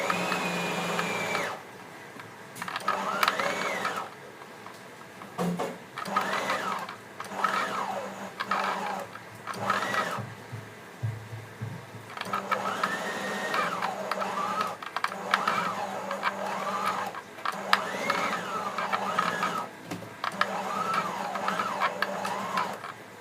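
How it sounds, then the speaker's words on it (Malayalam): A sewing machine stitches the inner and outer cloth of a bridal potli bag together, running in repeated bursts of steady mechanical whirring separated by short pauses. "ഇന്നർ ക്ലോത്തും ഔട്ടർ ക്ലോത്തും നല്ല ഭാഗങ്ങൾ ചേർത്ത് വെച്ച് സ്റ്റിച്ച് ചെയ്യുക."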